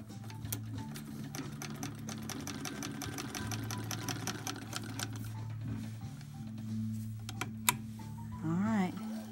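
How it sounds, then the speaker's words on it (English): A 1921 Singer Red Eye sewing machine runs a straight stitch, its needle clattering in a fast steady rhythm up close, with a short burst of talk near the end. "let me show you what a beautiful straight stitch"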